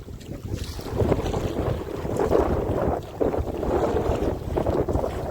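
Strong storm wind gusts across a river in the Sundarbans from a fishing boat, a rough, surging rush buffeting the microphone in uneven waves.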